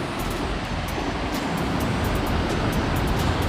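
Steady broadband roar of falling water at Thooval waterfalls in Idukki, continuous and fairly loud throughout, with no talking.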